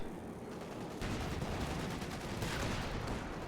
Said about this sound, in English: So many tanks shooting at it.